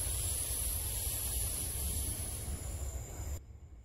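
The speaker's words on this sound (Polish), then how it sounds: "Naprzeciwko właśnie jakiś pociąg też wjechał." A train arrives in Train Simulator 2022 on the Welwyn Garden City to London route, rumbling in with a low, steady roar and a high metallic hiss above it, fairly quiet and continuous before fading abruptly.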